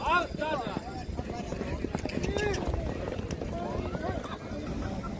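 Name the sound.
mare trotting, hoof clip-clop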